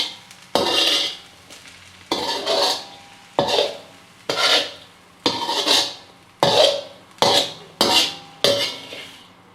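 Mushroom and capsicum rice being stirred in a pan, about a dozen distinct scraping strokes in a steady rhythm, close and fairly loud, with no talking.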